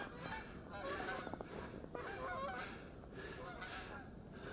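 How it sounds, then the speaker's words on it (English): Canada geese honk repeatedly outdoors in cold weather, a flock calling in overlapping bursts at middle distance over steady background noise. "finally got some wildlife for you guys. Some Canadian geese."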